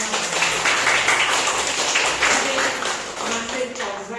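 A classroom bursts into a few seconds of steady, fairly loud clapping that rises and then fades, with voices talking over the applause.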